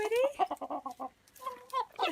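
Woody, a friendly pet cockerel, gives a quick run of clucks followed by a few longer drawn-out calls, close and fairly quiet, with a voice briefly mixed in.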